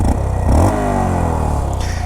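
A 2019 Honda Monkey mini bike with a Grom engine revs up loudly and close, its tone climbing and holding steady through a brief burst with no talk.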